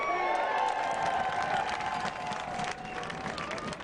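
Crowd in the stands at an ultimate frisbee match between Portland Rising and Revolution, cheering and whooping with excited shouts, moderately distant and steady, fading slightly toward the end.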